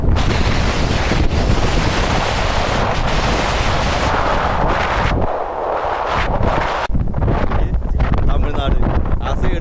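Strong wind buffets the microphone outdoors on a mountain trek up Perumal Mudi in Attappadi, a loud, continuous roaring rumble with gusty surges that dips briefly midway before returning at full force.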